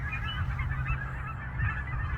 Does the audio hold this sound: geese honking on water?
yes